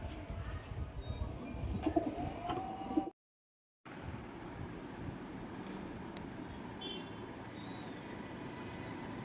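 A male pigeon coos in low, soft repeated calls amid steady background noise, with a brief dropout partway through.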